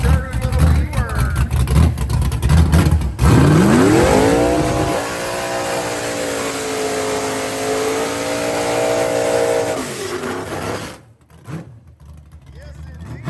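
A nitrous-fed small block Ford 5-body Mustang drag car at Ubly Dragway revs loudly, then launches with a rising engine scream that holds a long, steady wail before cutting off, with crowd noise and announcer talk around it.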